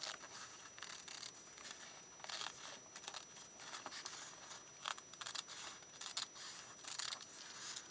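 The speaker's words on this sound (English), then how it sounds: "I'm just going to cut right along that edge" Scissors cutting along the edge of paper while making guitar-string pockets for a journal, heard as quiet, close snips and crinkles in irregular bursts.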